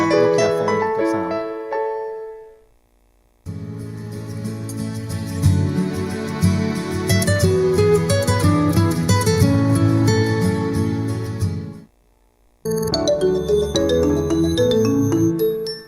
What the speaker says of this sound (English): this is actually a kind of 10 years transition of the sound of the Nokia phone sound